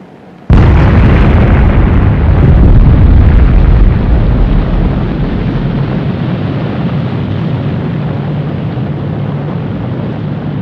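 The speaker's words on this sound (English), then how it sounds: "In 1946, a nuclear bomb was detonated on the Pacific island of Bikini Atoll." A 1946 nuclear bomb detonation at Bikini Atoll in the Pacific, heard as a sudden loud blast that stays as a thick, sustained roar and rumble, easing slightly after a few seconds but continuing to the end, with no talk.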